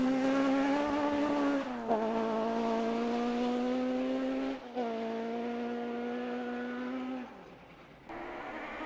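An M-Sport rally car on a stage: the engine screams at high revs, its pitch climbing and then dropping sharply at each of several gear changes, loud and close with no talking.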